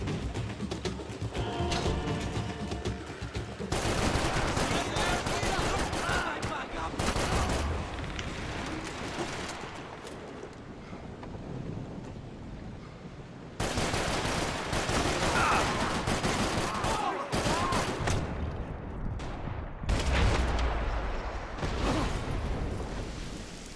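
Sustained gunfire from the video game Max Payne 3, with dense bursts of automatic shots and blasts rattling almost continuously, broken by a couple of brief lulls; no voices.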